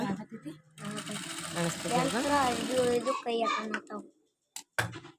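A sewing machine stitches the sleeve and shoulder of a small child's blouse, running in a steady close whir with someone talking over it, then stopping with a few clicks at the end.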